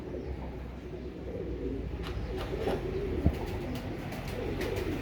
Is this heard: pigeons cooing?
yes